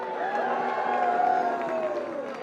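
A rally crowd at a Boston May Day workers' demonstration cheers and whoops in steady, sustained unison. The noise stays broad and loud throughout, with no individual speech standing out.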